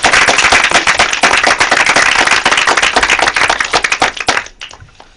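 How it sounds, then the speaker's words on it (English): Lecture audience giving loud, close applause for the speaker, dense sharp hand claps that stay strong before thinning out and fading near the end. "Dr. Harvey, Okay, let's give him a bit of applause"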